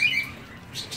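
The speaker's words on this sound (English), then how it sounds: "These guys are pretty big parrots." Large parrots give short, shrill squawks and chirps at close range, a few sharp calls over a quiet background.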